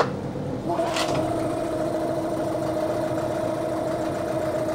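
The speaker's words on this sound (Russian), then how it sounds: "и двигатель заработал, появились холостые обороты." A Yamaha outboard motor idles steadily at close range after a fuel filter fix, a constant mid-pitched drone with a brief clatter near the start.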